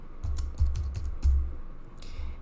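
A handful of crisp keystrokes on a keyboard, close up, each with a soft thump beneath the click, spaced irregularly over a couple of seconds.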